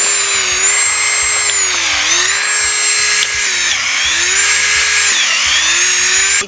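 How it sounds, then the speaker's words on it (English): A cordless power drill whines steadily as it bores into a maple tree for sap tapping, the motor pitch sagging and recovering several times as the bit bites into the wood, loud and close. "So here we are live with Maple Tree and a drill."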